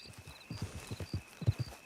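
A mare in Red Dead Redemption walks with hooves clip-clopping in an even, repeated rhythm of a dozen or so distinct thuds, moderately close, with faint ambient tones behind.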